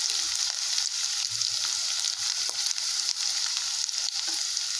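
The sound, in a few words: chopped onion frying in oil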